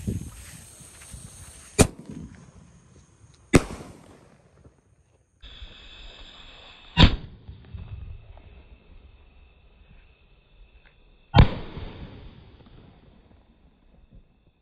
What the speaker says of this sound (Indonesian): Selanjutnya kita nyalakan Bima Sakti Jumbo.